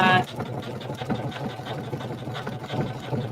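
A sewing machine stitches applique onto a terry beach towel, making a rhythmic mechanical chatter that runs continuously at moderate volume beneath a person talking.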